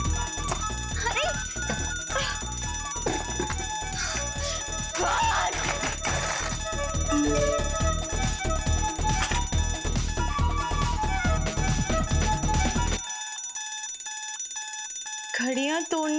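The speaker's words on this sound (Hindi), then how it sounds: "ये अलार्म की आवाज तुम्हें परेशान करती रहेगी।" An alarm clock rings insistently in a home during a TV drama scene, a continuous loud metallic jangle that cuts off abruptly near the end, leaving near-silence before a faint chime.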